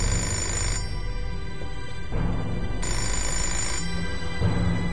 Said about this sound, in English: I just need to answer the telephone.